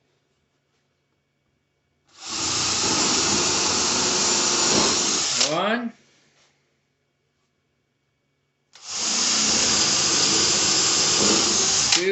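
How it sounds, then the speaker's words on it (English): A power drill bores screw holes into a wavy wooden flag in two sustained whirring bursts, close and loud, the first winding down with a falling pitch before a pause; a voice counts briefly between them. "Same thing, I'm going to drill my 3 holes."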